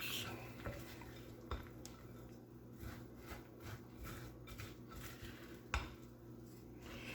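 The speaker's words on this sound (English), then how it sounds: "And we're going to mix." Caramel and butter-toasted pecans being stirred together in a pan for turtle candy, with soft scraping and clinks of a utensil against the pot, quiet and close with occasional sharper knocks.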